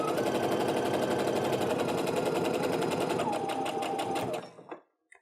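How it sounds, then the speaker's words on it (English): A sewing machine stitches a quilt block seam in one continuous fast whirring run, close and steady, then slows and stops near the end. "Now I'm going to sew down the other side as well."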